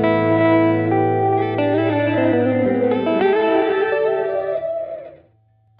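Guitar chords played through a reverb effect on a Line 6 Helix, ringing out with dense, lush decay and shimmering sustained tones that swell, then fade into near silence near the end.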